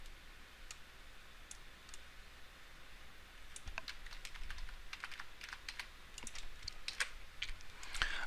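Fast, uneven keystrokes on a computer keyboard, typing text while building a Simpsons memory game, with bursts of crisp clicks that grow busier and slightly louder toward the end over a faint steady hiss.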